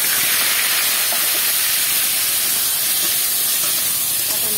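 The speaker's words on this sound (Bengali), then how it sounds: "এবার এই তেলেই দিয়ে দেবো পটল" Pointed gourd frying in oil in a kadai, a steady, dense, close sizzling hiss that runs throughout without talk.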